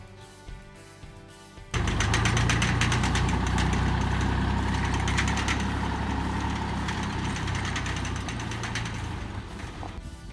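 A tractor carrying an ECOjet field sprayer pulls away. After a quiet start, its engine suddenly roars up to a loud, steady rumble with rattling mechanical clatter, then eases slightly toward the end.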